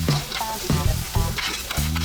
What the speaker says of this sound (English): Now you put some grapeseed oil in the pot, throw in your mushrooms, tomatoes,